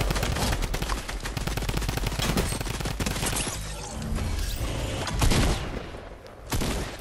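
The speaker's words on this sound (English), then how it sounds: "Someone else is shooting." Dense bursts of gunfire in Fortnite, rapid overlapping shots crackling loud and near for several seconds, easing off briefly before a final volley, with no talking.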